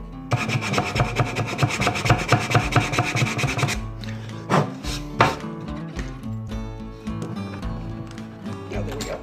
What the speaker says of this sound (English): I'll have to do a little bit of filing